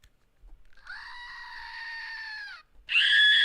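A synthetic AI voice mimics a screaming goat with two loud, strained bleating screams, a long wavering one followed by a brief gap and a sharper, louder second cry.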